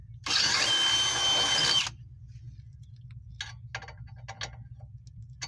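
A power drill reams out ball joint bolt holes on a 2007 Pontiac Torrent, whining loud and steady for about a second and a half before stopping, followed by faint scattered clicks and taps.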